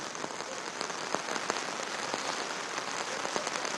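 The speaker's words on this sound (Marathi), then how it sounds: "काल रात्रीपासून दोन्ही ठिकाणी पावसाची संततधार जी आहे ती सुरू आहे" Steady rain falls at Pahine Ghat near Nashik during the monsoon, a constant close hiss dotted with soft drop taps and no voices.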